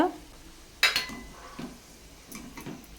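Golden brown fried masala chickpeas being lifted out of hot oil and strained, with a sharp metallic clank of a ladle or strainer followed by softer scraping and light clinks, fairly quiet.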